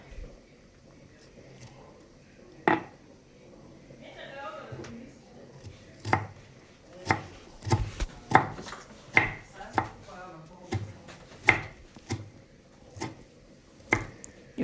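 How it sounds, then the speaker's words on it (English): A knife chops onions on a cutting board with a series of crisp, irregularly spaced knocks, growing quicker toward the end, while pork boils on a gas stove and a voice briefly speaks. "here we are basically just cutting the onions as the pork is boiling on"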